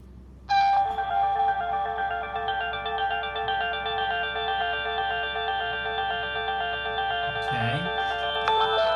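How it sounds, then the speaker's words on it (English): Ringtone of a Nokia 9210i Communicator phone: a sustained electronic melody of bright, stacked tones played clearly from the handset, steady throughout and rising slightly in energy near the end. "You can select the kind of ringtone you want"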